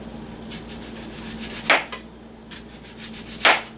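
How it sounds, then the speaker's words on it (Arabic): Kitchen knife slicing onion into round rings for a potato chicken casserole, two sharp crisp cuts about two seconds apart, close and distinct over a steady low hum, no talking. "واقطع البصل"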